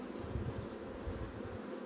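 Dense swarm of honeybees droning steadily at an opened hive during a beekeeper's inspection, a low continuous buzz close by with no talk.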